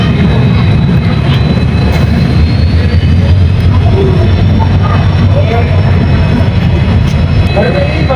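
A passenger train on the Tumkur to Bijapur route rumbles loud and close with a steady, heavy roar throughout; it does not clearly slow to a stop.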